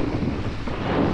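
Wind rushes steadily over a sailboat on open water near Hyères, a continuous broadband roar with buffeting on the microphone and no clear talk.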